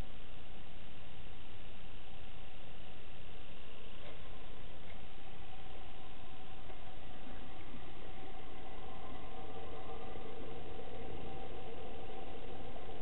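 A Chinese diesel heater's exhaust runs on a boat during a winter trip, giving a steady, muffled mechanical drone that holds even and continuous throughout, moderately quiet and without voices.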